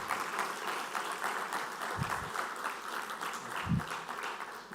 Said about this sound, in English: So a round of applause for actual artists amongst us.